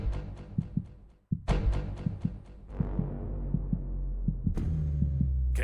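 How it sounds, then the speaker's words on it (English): A heartbeat sound effect thumps in steady paired pulses, loud and close, with a brief drop to near silence partway through before the beats resume over a low droning hum. "Can you feel your heart beating faster and faster?"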